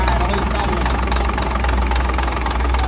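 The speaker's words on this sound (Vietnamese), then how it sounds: "Máy êm quá anh em ạ." A Wichai 310 motorcycle engine idles smoothly up close with a constant, even low thrum and no surges, while someone talks over it.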